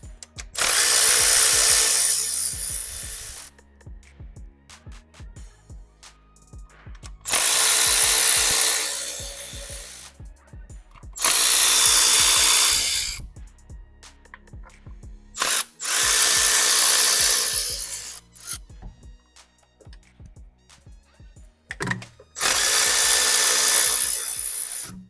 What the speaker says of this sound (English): Now we can go ahead and remove all this bolt nut here that hold the valve cover.